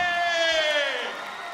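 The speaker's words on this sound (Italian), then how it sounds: "l'applauso di Napoli per te!" A concert crowd in Naples at the Palapartenope arena cheers and whoops loudly during a live show, a dense wash of voices that slowly fades over a second and a half.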